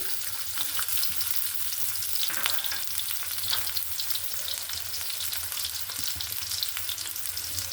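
Chopped onion and garlic frying in hot oil, a steady dense sizzle with occasional stirring scrapes, close and even throughout with no talking.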